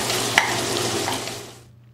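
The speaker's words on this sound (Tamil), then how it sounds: "வெங்காயம் தக்காளி நல்லா வதங்கிருச்சுங்க." A steady sizzle of onion and tomato sautéing in a pan with a light stir, close up, fading out toward the end.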